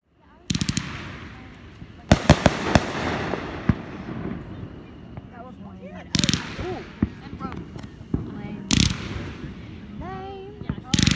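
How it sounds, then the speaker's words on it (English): Fourth of July fireworks bursting in loud, sharp cracks and rapid crackling volleys, some in quick machine-gun-like runs, with people talking and cheering in between. "right now the fireworks are kind of wrapping up"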